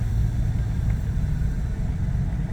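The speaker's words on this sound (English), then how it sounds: "Car is dead quiet at idle." Low, steady engine rumble of a 1936 Packard 12 idling quietly, a smooth continuous drone with no voices.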